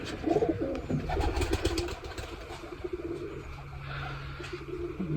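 Caged pigeons coo steadily nearby, soft throaty calls layered with a faint rustle and the occasional flutter of wings, with no one speaking.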